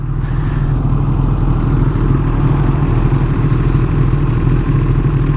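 A 1997 Kawasaki Ninja ZX7R sport bike cruising down a highway, its engine a steady, loud, continuous drone mixed with wind rush, unbroken and with no voices throughout.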